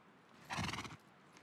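A horse whinnies once in the Rust video game, a short, clear neigh standing alone against quiet background.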